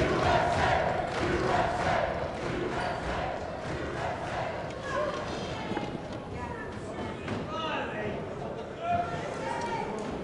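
A crowd at the 2015 Mosconi Cup pool event cheers and chants steadily, with rhythmic shouts and claps rising and falling. A commentator speaks over the noise.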